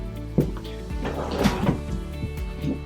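Storage drawers under a queen hide-a-bed in an Open Range 293RLS RV slide open, giving a few close wooden thumps and short rolling scrapes at irregular intervals, with no talking.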